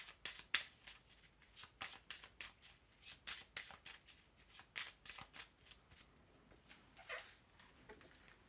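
Oracle or tarot cards shuffled by hand in a steady run of soft, papery riffles and flicks, close and fairly quiet, with no voice over them.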